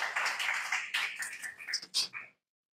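An audience at a religious talk on the Torah claps, a burst of hands that thins into a few scattered claps before stopping abruptly into silence.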